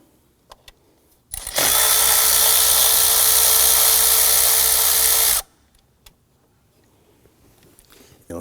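A power tool spins out an 8mm bolt on the coolant tube of a 2015-2020 Ford F-150 2.7L V6 during intake manifold work, one steady whirring burst of about four seconds, close and loud, with faint clicks before and after.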